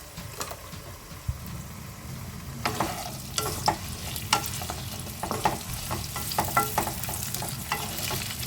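Mixed vegetables fry with salt and turmeric in a pan, giving a steady close sizzle with repeated scraping stirs of a spatula against the metal throughout.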